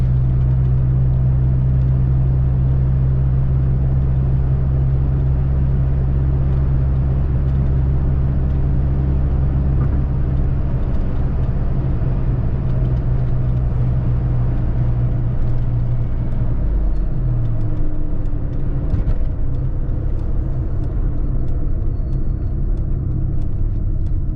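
A 1985 Saab 900S cruising in fifth gear at 50 mph, heard from inside the car: a loud, steady engine drone and road rumble, with a brief shift in pitch partway through.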